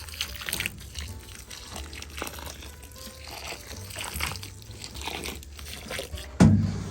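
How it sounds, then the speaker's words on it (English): Water poured into a homemade soil mix for growing collard greens outdoors, a steady close splashing and trickling with scattered crunchy, gritty sounds and a sharper bump near the end. "Pour some water in there to help with the mixing."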